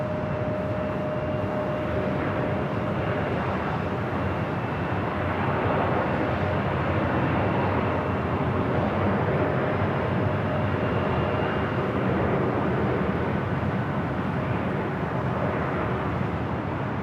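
Alaska SkyWest jet arriving at LAX from Santa Rosa, heard as a steady, broad engine roar that holds at an even level throughout, with no voices.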